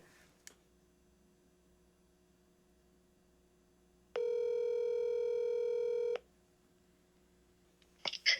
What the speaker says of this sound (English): I got to actually dial the phone properly if I'm going to do that.